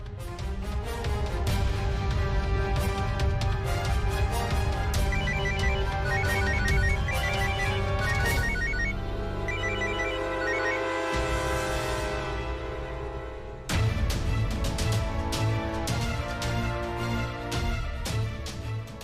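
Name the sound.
telephone ringtone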